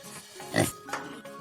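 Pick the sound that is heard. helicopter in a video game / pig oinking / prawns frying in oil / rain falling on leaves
pig oinking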